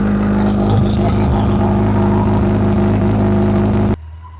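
A Yamaha FJR 1300 motorcycle with its exhaust removed idles and revs with a loud, raw, open-pipe roar up close, then cuts off sharply near the end.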